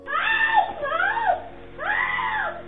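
A woman screams on a home doorbell camera as a man drags her off the porch, with repeated loud, strained cries rising and falling in long wails and a brief gap between bursts.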